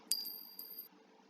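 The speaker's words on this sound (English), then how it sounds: "like a dropping pen" A small pen drops onto a hard surface with a faint, bright tick, a quick second bounce and a short rattle, heard very softly and alone.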